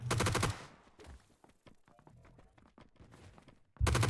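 Rapid automatic gunfire in the top-down tactical shooter PUBG Blindspot, with a loud burst at the start, quieter scattered shots and footsteps in between, then another loud burst at the end.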